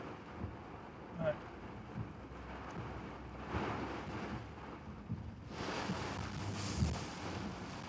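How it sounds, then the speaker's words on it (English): Gusty northeast wind buffets the microphone outdoors during a severe storm in Central Texas, a rough low rumble that swells in bursts and grows stronger toward the end, with muffled speech under it. "now I'm going to fight the gusty winds hitting me from the northeast now"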